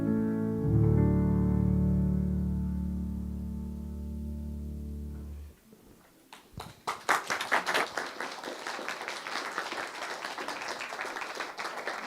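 A live song ends on a long, sustained chord that holds and fades. Then an audience bursts into close, crisp clapping that builds and carries on to the end.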